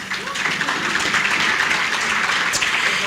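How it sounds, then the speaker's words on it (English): Applause from an audience of women at a Girls Can Code launch event, a steady dense wash of clapping filling the room throughout, fairly loud and continuous. "So a round of applause for the women in the room"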